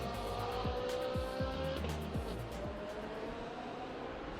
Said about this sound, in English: The high whine noise of the engine is very, very iconic for the Ferrari